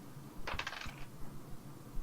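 Dice rattle briefly across a table during a tabletop game, a quick cluster of small clicks and clatters followed by quiet room tone.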